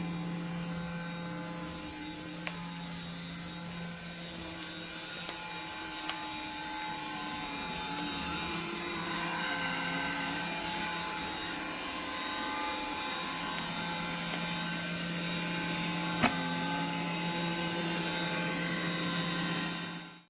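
A homemade robot vacuum cleaner built from an ordinary household vacuum runs steadily up close, with a constant motor hum and mechanical whir and no talking.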